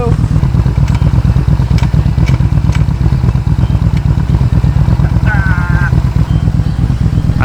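A Yamaha Bolt motorcycle, just refueled with fresh gas after a bout of backfiring, runs at a steady, loud idle close by, its rumble continuous throughout with a faint, brief squeak partway through.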